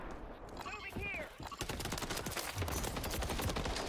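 Hardcore-mode gunfire in Call of Duty: Modern Warfare III, with dense automatic bursts building after a short voiced section and continuing loud and steady to the end.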